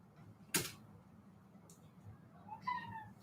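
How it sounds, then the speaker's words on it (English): A house cat, wanting to play fetch, lets out one short, close meow near the end of a quiet indoor stretch, after a single sharp click. "Sorry, my cat wants to play fetch right now."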